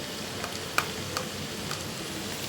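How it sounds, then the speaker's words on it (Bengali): Onion, capsicum, beans and baby corn fry in a pan with a steady, soft sizzle, broken by a few faint clicks and stirring taps. "এবার অনেকটাই ভাজা হয়ে এসছে।"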